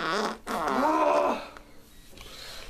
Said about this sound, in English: why'd you fart on the camera?